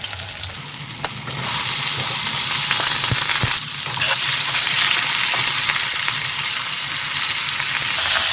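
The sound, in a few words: cauliflower frying in oil with tomato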